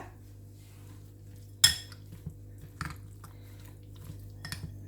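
A spoon mixes chicken marinade of turmeric, pepper powder and vinegar in a bowl, a few close, quiet clinks and scrapes spaced irregularly over a faint background hum.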